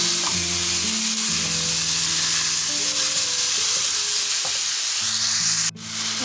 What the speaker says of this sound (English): now I'm going to add in our ground beef. And I'm just going to go in and break that apart